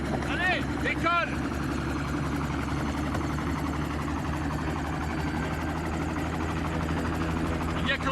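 Helicopter engine and rotor drone in Los Angeles, a steady loud low rumble throughout with brief voices and shouts near the start and end.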